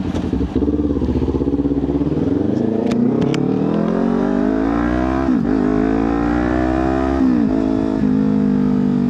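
A Kawasaki Ninja 400 motorcycle accelerates on the road from a toll booth, its engine note climbing steadily through rising revs with a brief dip at a gear change, loud and close with wind noise.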